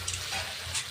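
Water is splashed into a pan of frying drumstick (sajne data) and pumpkin pieces with spices, bringing a close, steady hiss and sizzle that swells briefly twice.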